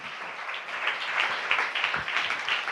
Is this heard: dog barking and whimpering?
no